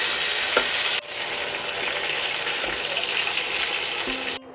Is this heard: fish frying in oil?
yes